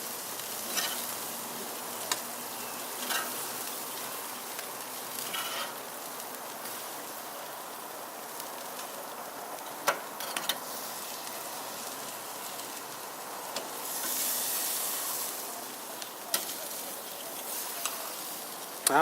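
Onions grilling on an outdoor barbecue give a soft, continuous sizzle and crackle from a short distance, with scattered clicks and taps and a brief louder hiss partway through.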